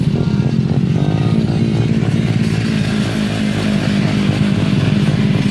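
Motorcycle engine revving loud and close on a muddy trail, a continuous rough buzzing drone with slight pitch wavering throughout.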